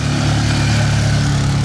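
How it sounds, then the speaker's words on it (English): Steady motor engine running nearby on a steep hillside street in a Medellín neighborhood, a loud continuous hum with a strong low drone throughout, no voices. "there's a motor here"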